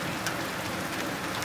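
Hailstones about 2–3 cm across hitting window glass during a heavy thunderstorm in Jelgava, Latvia, heard as a dense, continuous patter of small impacts, faint and steady without any talk.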